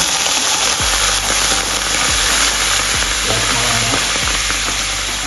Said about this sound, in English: The vegetables are slightly roasted right now, so I'm going to add some of the white wine.